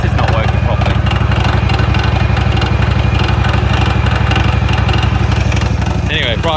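A Scag ride-on mower with a Kawasaki engine idles steadily with a fast, even mechanical throb, loud and close, running continuously without changes in speed.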